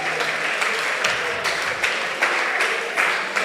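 Schoolgirls at a senior high technical school clap for themselves, a room full of hands making dense, steady applause that swells in rhythmic pulses, close and lively, with no voices standing out.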